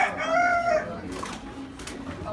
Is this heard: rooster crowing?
yes